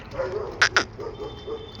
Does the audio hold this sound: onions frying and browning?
no